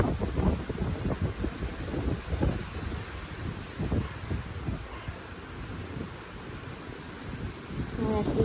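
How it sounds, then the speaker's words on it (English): Gusty wind rumbles and buffets the microphone in uneven bursts, fairly faint, with a brief crow call near the end. "It's really windy now."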